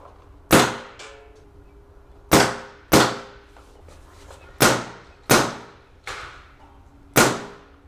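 An Atomic Pickle paintball gun fires seven sharp, loud shots at uneven intervals, each a crisp snap with a short decay, standing alone against a quiet background.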